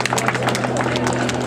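A rally awards ceremony crowd applauds, the dense clapping steady and continuous, with some crowd noise mixed in.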